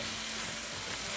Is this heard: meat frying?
yes